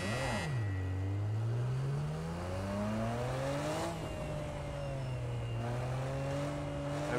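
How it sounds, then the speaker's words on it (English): A high-revving 600-horsepower GT-R engine in the racing game Project Cars 2 climbs through gears, pitch sweeping up and shifting, loud and continuous with no voices. "This is a 600 horsepower GTR and it feels so good."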